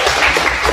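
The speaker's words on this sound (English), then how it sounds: "I think that deserves applause." Audience at a startup founders' event on building with AI gives a brief round of clapping, a short, close, uneven patter of hands.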